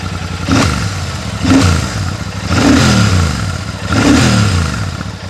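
A Royal Enfield Super Meteor 650 twin-cylinder engine revs four times in succession, each blip rising and falling back to a lumpy idle, close and loud with no talking.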